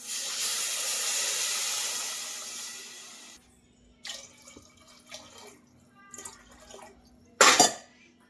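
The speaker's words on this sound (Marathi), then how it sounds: "तर मी दीड तांब्या पाणी टाकलेले बघा" Water pours steadily into a cooking pot for about three seconds, about one and a half tumblers to cook half a kilo of rice for paneer biryani, followed by a few soft clinks and small splashes in a quiet room.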